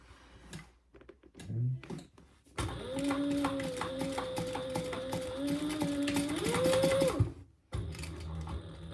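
A sewing machine basting a bag piece runs in a fast, even stitching rattle with a whining motor for several seconds, preceded by short handling noises and followed by a brief restart.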